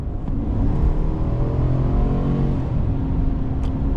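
A 2025 Chevy Silverado 1500 LT pickup with a 10-speed transmission accelerates in sport mode, its engine a steady, loud, deep rumble and whir from inside the cab, with no talking.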